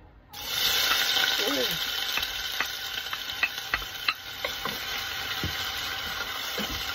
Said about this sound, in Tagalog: naglagay na ako ng mantika, at saka ito yung sibuyas, at saka bawang. So, gigisahin ko muna to.